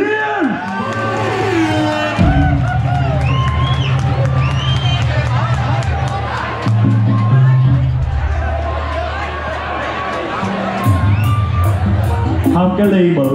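A loud crowd cheers and whoops at a Valentine's and spring music show as a singer is welcomed, with shouting voices and babble layered over music, and occasional sharper claps near the end.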